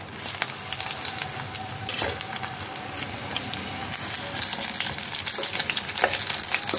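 Thick eggplant chops frying in hot oil give a close, busy crackling sizzle, with scattered spatters and a few utensil knocks as the pieces are turned over, and no talking.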